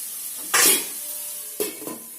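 Onions fry with salt in a pan for a bitter gourd fry; two short hissing bursts of sizzle flare up about a second apart, each fading quickly into a quiet background.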